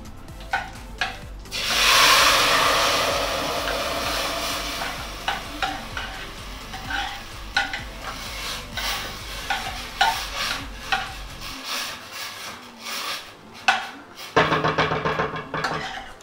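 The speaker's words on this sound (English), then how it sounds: "turn it down to a medium-high heat and pour in the tomato mixture" Tomato mixture for a mixed lentil korma hits a hot pan with a loud burst of sizzling, then keeps frying under steady stirring and scraping, fading toward the end.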